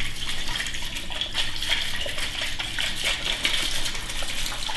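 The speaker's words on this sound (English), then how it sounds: "I'm about to mix now. So, shake it up a little bit." Cinnamon sugar margarita shaken hard in a cocktail shaker, giving a steady, close, continuous rattle and slosh of ice and liquid with no talk.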